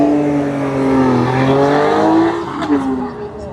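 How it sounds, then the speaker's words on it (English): A Mercedes-AMG accelerates up the hill climb track at the Kop Hill Festival, its engine note rising loud and close over a few seconds, with a commentator talking over it. "Take it all in as the AMG hits the track here at Cop Hill"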